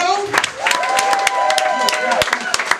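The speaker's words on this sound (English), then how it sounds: "Let's have a massive round of applause for Joanna and the comedy Huddle." Comedy club crowd at Smokey Joe's applauding, a steady patter of many clapping hands close by while a host keeps talking over it.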